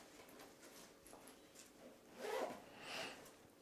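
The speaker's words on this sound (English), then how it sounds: "And that zips up as well." A YKK zipper runs closed on a bag's lining pocket with two short rasping pulls, close and moderately loud, over quiet room background.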